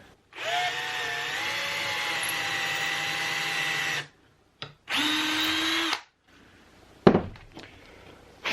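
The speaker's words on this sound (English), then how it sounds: "Just going to pre-drill and then put a little wood glue on there" Power drill pre-drilling into wood, running as two sustained whirring bursts with a pitch that climbs as the motor spins up, each ending cleanly, followed by a sharp knock and faint handling noises.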